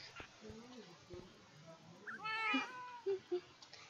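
Cats meowing in a snowy video game map, several short meows and a drawn-out higher cry amid soft game noise, with a person talking over part of it.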